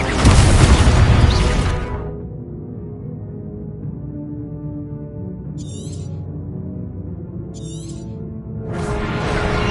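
Expulso explosion spell in Hogwarts Legacy, a heavy booming blast that opens loud and decays over a couple of seconds into a low rumble, followed by quieter game ambience.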